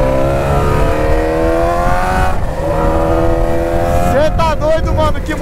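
A BMW S1000 motorcycle engine holds a high, steady rev, then climbs and pulses through sharp rising revs near the end, loud and close, with a voice partly under it.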